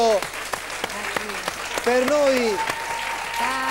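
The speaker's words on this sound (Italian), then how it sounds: "vorrei che facessero un applauso ad Achille" Audience applause at an Italian television show, a dense, sustained clapping from a crowd that runs throughout while a voice talks and calls out over it.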